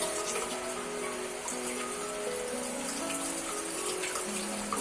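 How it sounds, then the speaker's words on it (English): Running tap water splashing over plant roots to wash off old soil while repotting, a steady continuous hiss and gurgle, fairly quiet and close, with no voices. "As you can see, the running water will remove the extra soil"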